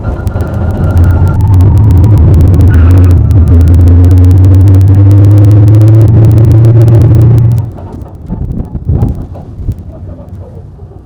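A small open Mini Moke drives with a loud, steady engine drone and road rumble, then the engine noise drops away as it rolls to a stop, leaving quieter intermittent sounds.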